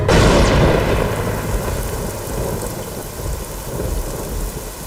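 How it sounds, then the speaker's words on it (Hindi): Heavy rain pours down without a break while a loud roll of thunder booms at the start and slowly fades, a dense, close, steady downpour with no voices. "अम्मू, इतनी बारिश में कहाँ जा रही हो?"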